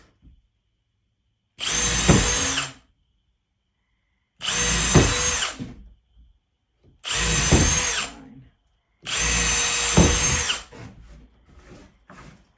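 A power drill whirs in four separate bursts of about a second each, pre-drilling wood for a picnic table, with quiet pauses between; a voice briefly speaks near the end.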